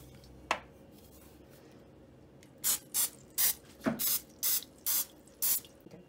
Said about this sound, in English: we're going to spray our pan, our muffin pans here with the Pam, just a regular Pam spray